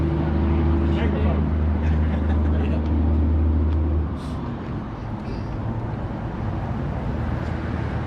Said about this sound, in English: I don't know what makes all these pickup trucks so loud